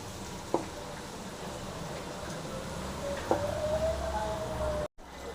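Oil with pirandai herb bubbles and sizzles steadily in a pan, a close continuous fizzing hiss with a couple of faint clicks and a brief cut near the end.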